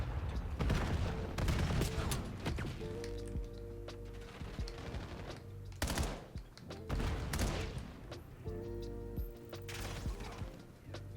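Video game gunfire from play on a PS5 DualSense Edge controller crackles in rapid bursts and separate sharp shots, loud and close, with short pauses between volleys.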